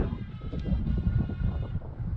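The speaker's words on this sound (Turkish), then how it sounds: "Şu anda çok rüzgar da var bu bölümde." Strong wind buffets the microphone in a continuous low, rumbling roar with uneven gusts, loud and close throughout, at Anzac Cove (Arı Burnu) on the Gallipoli peninsula.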